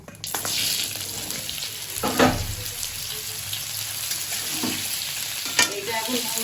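Ridge gourd frying and sizzling in a wok with a steady hiss, broken by a few scraping stirs of a spatula against the pan, close and fairly loud.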